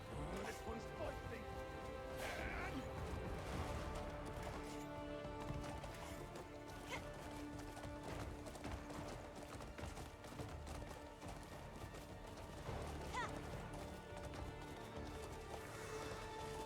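Horse hooves clip-clopping in the video game Crimson Desert, a steady rhythmic trotting under a dense bed of game music and ambience, moderately loud throughout.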